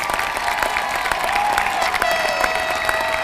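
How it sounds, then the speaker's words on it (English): Audience at a 2021 high school graduation ceremony gives a sustained round of dense applause, steady and fairly loud throughout with scattered cheers mixed in. "Let's give our graduates one more round of applause and blow horns."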